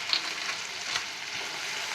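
Ginger garlic paste frying in a pan gives a soft, steady hiss and sizzle, faint and continuous, with a tiny clink near the start and no voices.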